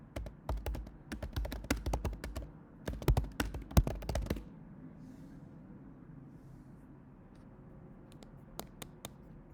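Rapid clicking of computer keyboard keys in close bursts, then the typing stops and a few isolated taps follow over quiet room tone.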